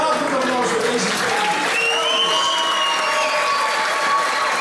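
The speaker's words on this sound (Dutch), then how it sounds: "Mag ik een draaglijk applaus voor deze twee?" Audience applause for two players after a spectacular match, a steady, loud wash of clapping with tonal whistles or cheering sweeping through the middle.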